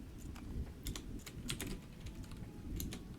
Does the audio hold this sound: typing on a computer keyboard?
yes